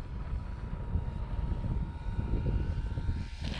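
An E-flite Timber X RC plane crabs in to land through a gusty crosswind, its electric motor droning steadily and fairly close, with the pitch shifting slightly as it approaches.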